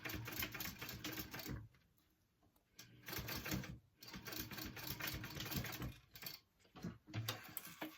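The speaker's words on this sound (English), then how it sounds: "then you're going to top stitch that down" A sewing machine top-stitches a seam on a fabric clutch, its rapid mechanical whirring and needle chatter running in close steady bursts with brief pauses between them.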